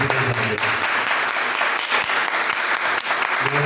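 Church congregation applauding during a Sunday worship service: dense, sustained clapping from many hands, loud and close, filling the room without a break.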